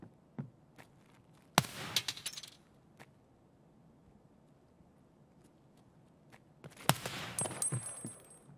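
Gunfire in the video game Escape from Tarkov arrives as two sharp, loud bursts of shots separated by several seconds of quiet background.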